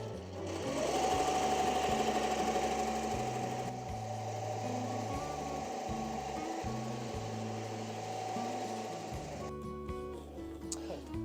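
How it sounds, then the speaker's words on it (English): An embroidery machine stitches a thick all-thread patch with a steady, rapid mechanical chatter that holds at a loud, even level for about ten seconds, with the pitch and rhythm shifting a little as it works. "So we're going to hit go and let her embroider."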